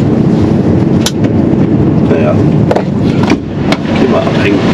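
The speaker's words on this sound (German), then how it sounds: "Draußen ist ein Wind. Brutal." Strong outdoor wind buffets the microphone on a mild, breezy day, a dense continuous rumble with sharp gust bursts, while someone speaks German over it.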